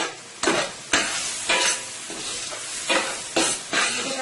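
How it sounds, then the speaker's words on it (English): Boiled Guyanese provisions tossed and sautéing with onion powder in a pan, a steady sizzle broken by about seven rhythmic bursts of scraping stirs, close and unaccompanied by speech. "Let it saute for about 2 to 3 minutes, just like that."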